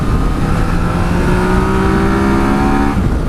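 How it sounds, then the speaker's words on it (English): A 2018 Yamaha Tracer 900 motorcycle revs hard in third gear, the engine note rising and holding at high revs, loud and close, with no talk. "Let's go into the high revs."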